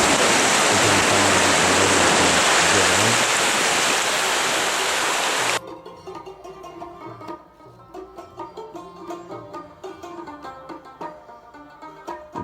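Cold mountain stream and waterfall in the Kalam valley of Swat, a loud, dense roar of rushing water close by that cuts off abruptly, leaving quieter scattered sounds.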